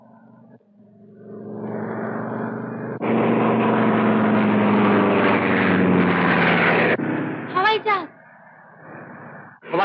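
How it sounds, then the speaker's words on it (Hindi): A propeller airplane drones as it circles overhead in a 1951 Hindi film, swelling louder then cutting off abruptly, followed by brief bird-like chirps. "अरे हवाई जहाज चक्कर क्यों काट रहा है"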